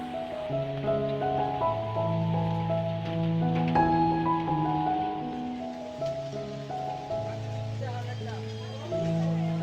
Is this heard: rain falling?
yes